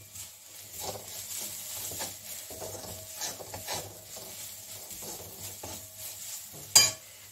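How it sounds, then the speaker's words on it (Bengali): Omelette filling with grated ginger and chili powder is stirred as it fries in a pan, giving a soft sizzle under repeated scraping strokes, with one sharp clack near the end. "এখন এটা একসঙ্গে আমি ভেজে নিচ্ছি।"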